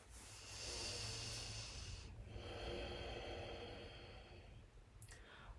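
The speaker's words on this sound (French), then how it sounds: "On reprend la respiration par le nez." Slow, deep breaths in and out through the nose during a yoga session on a mat, each a long airy rush close to the microphone, with no talking.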